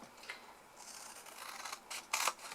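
Soft snips of small scissors, a few quick cuts building to a louder double snip near the end, close up in a quiet room.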